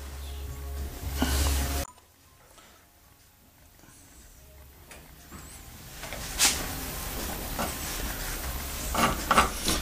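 Cooked eggplant flesh being scraped from its skin with a utensil, giving soft, intermittent rasping and scratching strokes that grow denser toward the end after a brief louder burst at the start.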